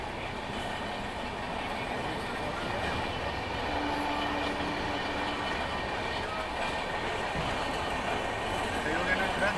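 Steady rumble and rattle inside the carriage of a moving Bharat Gaurav tourist passenger train in India, continuous throughout with faint voices in the background.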